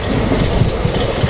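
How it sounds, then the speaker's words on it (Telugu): The 22954 Gujarat SF Express superfast train runs between Ahmedabad and Mumbai, its wheels hammering out a loud, close, continuous clickety-clack rhythm over the rails. "ఈ ట్రైన్ ఇప్పటిదాకా ఆన్ టైం అయితే నడుస్తుందన్నమాట"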